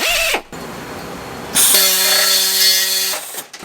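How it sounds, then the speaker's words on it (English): A large Snap-on power drill whirs briefly, pauses, then spins up loudly with a steady high whine for a couple of seconds before stopping. "I'm talking about this big kahuna drill that I bought from Snap-on many years ago"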